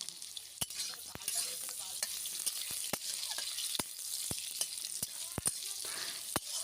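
Potatoes frying in oil, a soft continuous sizzle punctuated by a regular series of sharp spatula clicks and scrapes against the pan.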